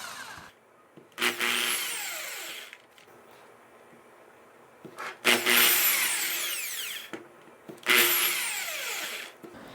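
A power drill bores small pilot holes for screws in wood while a tripod floor lamp is being built, with three separate whirring bursts of a few seconds each and quiet pauses between them.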